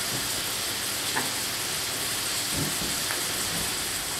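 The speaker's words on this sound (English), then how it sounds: "we're going to let this sizzle until we start getting some brown color" Steady, loud frying sizzle of bacon and cabbage in a hot cast iron pan, a constant crackling hiss with a few small pops, close up and without talk.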